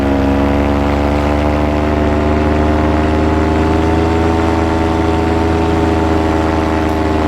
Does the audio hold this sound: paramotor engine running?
yes